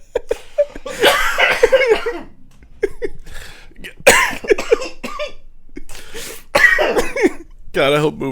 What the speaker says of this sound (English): This segment's really bad for your cough.